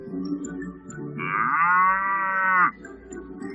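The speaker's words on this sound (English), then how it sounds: "A cow." A cow gives a single long, steady moo, loud and close, rising above a low background murmur on a farm.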